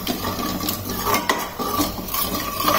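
A spoon scrapes and stirs turmeric and spices around a pan over a low flame while surmai fish cutlet mixture cooks, a continuous close clatter of metal on metal with a faint sizzle underneath.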